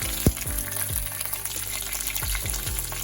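Mustard seeds, curry leaves, cumin and fenugreek sizzle in hot oil, a steady close crackle with sharp pops and spits scattered throughout.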